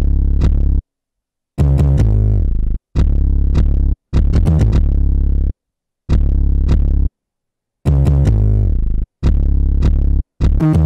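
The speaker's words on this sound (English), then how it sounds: "I used this secret 808 that I haven't released yet" An 808 bass in an FL Studio beat, with a slide note pitch-down effect: booming sustained low notes in short phrases with gaps between them, some gliding downward, loud and close.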